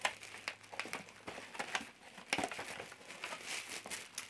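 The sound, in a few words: crinkling red tissue paper in gift box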